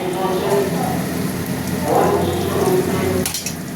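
Dhokla dal fries and sizzles in a pan while being stirred, a steady dense crackle throughout with faint scraping, under an ongoing voice.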